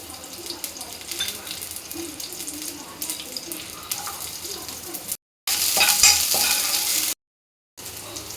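Onions dropped into hot oil in a pan sizzle and fry with stirring scrapes, moderately loud, with a brief louder burst of sizzling after a short gap.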